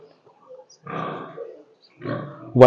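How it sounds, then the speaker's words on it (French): A sow with her piglets on a pig farm gives short bursts of close, rough grunting separated by brief quiet gaps, ending in a louder grunt. "voici une très bonne truie ici là, elle a des très jolis porcelets"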